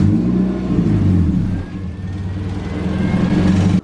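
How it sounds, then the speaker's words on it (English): A Toyota AE86 with a swapped BEAMS engine idles steadily up close with a deep, even rumble and a slight rise and fall in pitch, no voices. "as you could hear, the car's idling good now"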